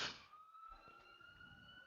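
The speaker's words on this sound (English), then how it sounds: "Ambulance driving by." An ambulance siren passing by on a street near a boys' soccer game wails as a steady tone, faint and distant, after a brief noisy burst at the start.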